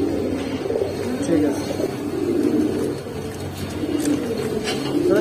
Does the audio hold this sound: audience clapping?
no